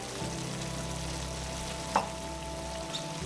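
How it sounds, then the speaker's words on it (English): Bloomed gelatin being stirred into a simmering shepherd's pie beef filling cooked in beef tallow, a steady low bubbling sizzle with a low hum and one sharp utensil clink against the pan. "Now we'll stir in the bloom gelatin until it's fully dissolved into the mixture."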